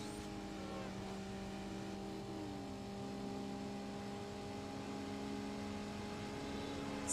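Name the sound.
car accelerating with nitrous boost in Need for Speed Underground video game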